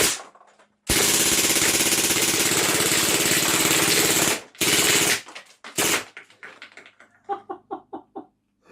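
A German MP-style 4.5 mm BB gun ripping off long full-auto bursts, a loud, dense rattle for several seconds, then short bursts and a few separate mechanical clicks as it winds down.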